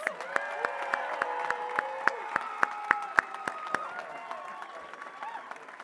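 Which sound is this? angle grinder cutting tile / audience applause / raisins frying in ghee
audience applause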